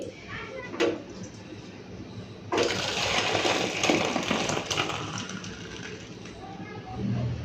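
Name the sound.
cooked lentils (dal) being poured out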